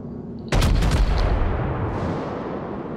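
Battleship main guns firing in the naval game World of Warships, a sudden close, loud salvo of several overlapping booms followed by a long rumbling decay, with no speech.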